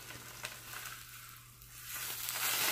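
Red snapper or trout seasoned with garlic seasoning, parsley and garlic salt frying in a pan, a soft, steady sizzle with a low hum underneath and no talk.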